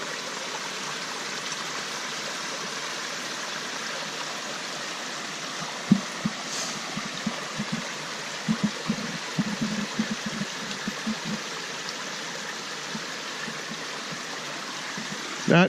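Water pouring down rock along the Appalachian Trail, a steady close rushing wash with occasional soft thuds mixed in.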